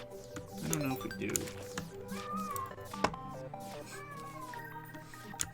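A pet cat meows repeatedly for attention, close by, a few distinct cries over steady game music and background sound, with a sharp click midway.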